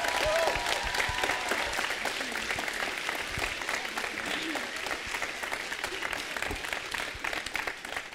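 Sustained audience applause fills a stage show hall, dense and steady clapping from a large crowd holding at an even level throughout, with faint voices mixed in underneath.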